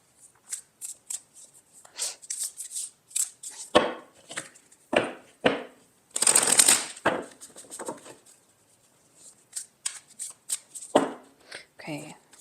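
Tarot cards are shuffled by hand in bursts of riffling and soft slaps, with pauses between, while a person talks intermittently.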